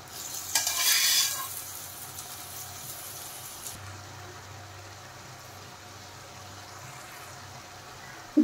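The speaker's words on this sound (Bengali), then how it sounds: "আর এখন ভেজে রাখা বড়িগুলো আমি লাউয়ের মধ্যে" Fried lentil dumplings dropped into bottle gourd cooking in a pan: a brief burst of sizzle and a clatter near the start, then a low, steady frying hiss that fades quieter for the rest.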